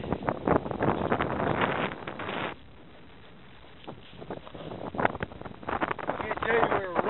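Strong storm wind buffets the microphone in heavy roaring gusts during a storm chase, easing briefly in the middle before surging back up, with someone talking over it.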